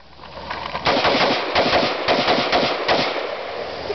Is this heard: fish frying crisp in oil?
no